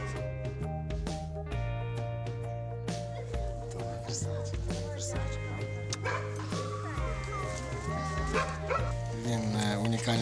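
A therapy dog barks and yips a few times over steady background music, with a voice talking intermittently.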